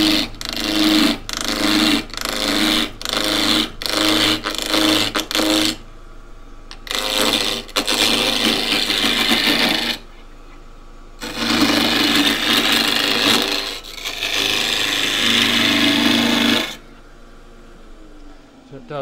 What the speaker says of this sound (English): I can use this same tool to rough down this 90 millimeter square of elm, dry elm.